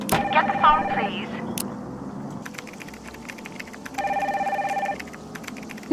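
A telephone rings twice in a Nancy Drew point-and-click game, each electronic ring lasting about a second with a pause between, with a voice and keyboard clicking around it.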